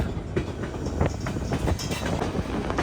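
A train rolls along the rails near Skagway, Alaska, with a steady rumble and faint rhythmic clickety-clack heard from on board, constant and moderately loud without voices.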